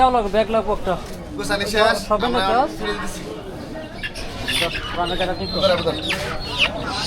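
Native chickens at a market give overlapping clucks and squawks, fairly close and steady throughout, with people talking over the birds.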